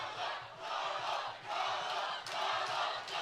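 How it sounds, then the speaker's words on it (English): A crowd at an MMA event chants in rhythmic, pulsing waves, loud and sustained, with no talk over it. "The crowd chanting."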